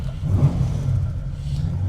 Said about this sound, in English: Well, fires up like a proper Aston should.